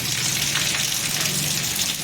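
Heavy rain pours down in Nadiad in a dense, constant hiss, loud and close, with no pauses or talking.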